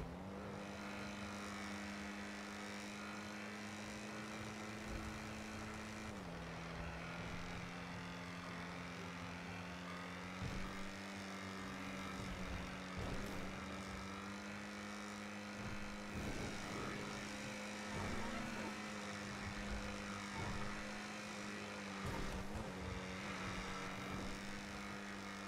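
An Ocelot Jugular sports car, modelled on the Jaguar Project 8, is driven in GTA 5, its engine a sustained droning hum that drops in pitch at gear changes, with faint clicks and thumps over the steady tone.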